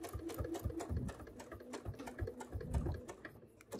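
Sewing machine stitching quilt binding, a steady close mechanical hum with a rapid rhythmic needle chatter that runs throughout, moderately quiet with no talk.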